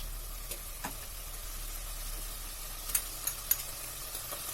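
Meat being cooked in a pan for Ottoman-style Hünkar Beğendi gives off a soft, steady sizzle, faint and fairly distant, with a few light clicks and taps from a utensil.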